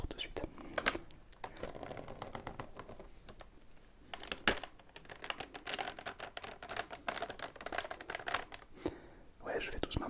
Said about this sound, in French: je fais doucement parce que c'est un sac à Lego